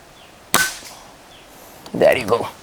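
A single sharp crack of an SDB Sniper nitro piston air rifle firing, a clear transient followed by quiet room noise and a brief burst of sound near the end.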